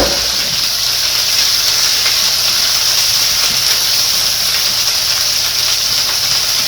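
Hot grease heating in a pan for chicken fajitas, giving a loud, steady hiss that runs unbroken throughout without any voices.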